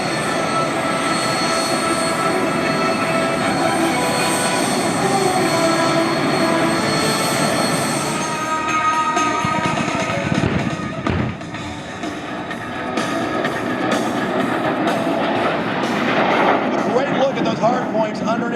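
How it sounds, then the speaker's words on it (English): An A-37 Dragonfly jet carrying four drop tanks under its wings flies at an air show, a loud broad roar that shifts and swells as it passes, with the crowd area noisy around it. "This is the A-37 Dragonfly."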